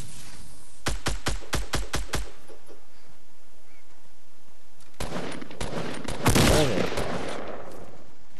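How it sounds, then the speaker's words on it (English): Gunfire in Fortnite during a 50v50 match: a rapid burst of about seven sharp, loud shots, a pause, then a denser, more chaotic spray of shots with harsher impacts, no talk over it. "They're shooting at us."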